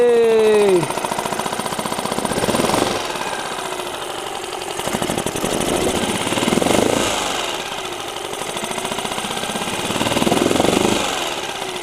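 A small Mercury/Tohatsu 4-stroke outboard engine idles close by with a rapid, rough putter that swells and eases in level, while a brief voice and a rising whine sound at the start.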